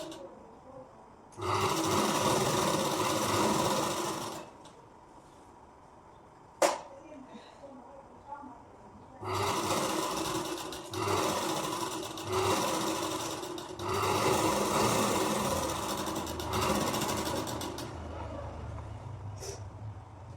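A sewing machine stitches a princess-cut blouse in several bursts of rapid whirring separated by quiet pauses, with a sharp click in between, close and fairly loud.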